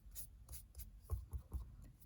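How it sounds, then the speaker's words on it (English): Soft, quiet rubbing as ink is gently dabbed onto a paper card in a series of short, faint strokes, close up and with no talk. "I'm just going to gently rub that on here"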